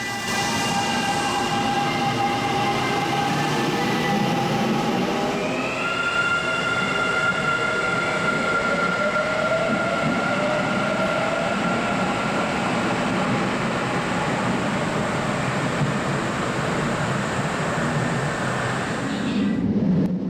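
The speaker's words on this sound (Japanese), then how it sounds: "桜川駅を発車していきます。" A Kintetsu rapid express of 9020-series cars, four two-car sets coupled into eight, pulls out of underground Sakuragawa station, a steady loud rumble of wheels with layered electric motor whines climbing in pitch as it accelerates, with no voices.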